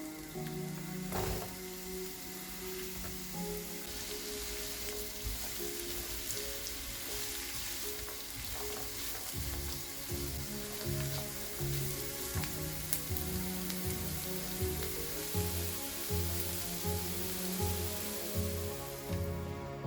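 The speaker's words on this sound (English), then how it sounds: "Fry the onion." Onion sizzles and crackles steadily in a hot pan, a close, even frying hiss with faint stirring clinks and a low hum underneath.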